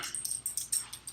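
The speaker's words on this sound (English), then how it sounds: "there's a dog here now" A dog whimpering nearby: a run of short, high-pitched whines and yips in quick, uneven succession, fairly soft, with no talking over it.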